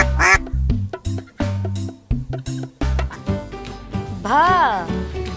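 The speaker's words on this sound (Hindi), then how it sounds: "ब से बतख।" A duck quacks in loud, nasal bursts, mixed with a lively musical backing and a voice reciting the Hindi alphabet.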